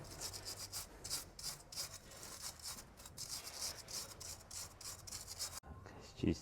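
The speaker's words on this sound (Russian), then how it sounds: "Счищаем ржавчину с болтов крепления" Rust is scrubbed off the hub mounting bolts of a Land Rover Discovery 4 in quick, rhythmic rasping strokes. The sound is close but quiet, and it stops abruptly just before the end.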